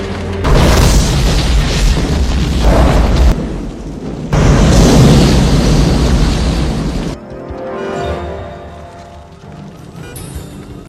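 Film explosion scene with heavy, booming blasts: a loud roaring burst, a brief dip, then a second long rumbling detonation before it cuts to quieter debris and ringing tones.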